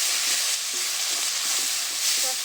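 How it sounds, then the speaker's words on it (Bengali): Fried masala with tomato sauce sizzling in a pan while being stirred, a continuous close crackle with light scraping movements throughout. "সসটা দিয়ে একটু নেড়ে ছেড়ে নিচ্ছি।"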